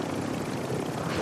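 A helicopter in the video game Warzone 3 gives off a constant dense roar of rotor and engine noise. It is loud and unbroken for the whole moment, with no voices.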